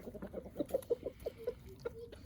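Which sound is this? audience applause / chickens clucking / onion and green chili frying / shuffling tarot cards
chickens clucking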